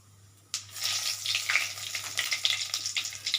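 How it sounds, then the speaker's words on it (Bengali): Whole cumin seeds and two dried red chillies dropped into hot oil for tempering: a sudden sizzle that flares up and keeps crackling and hissing steadily, close by, with no talking. "ফোড়নে এই এতটুকু দিচ্ছি সাদা জিরে এবার আস্ত দুটো লঙ্কা দিয়ে দিচ্ছি"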